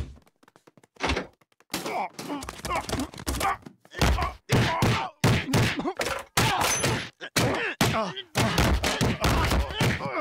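Repeated heavy thuds and slams as Quagmire beats Brian through the Griffin house in a Family Guy cartoon, loud percussive impacts in rapid irregular bursts separated by short gaps, with grunts and groans mixed in.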